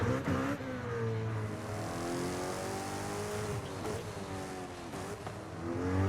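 A 903-horsepower car engine revving hard in Forza Horizon, a loud, steady high-pitched roar with rising and falling tones as it accelerates and shifts, close and continuous throughout.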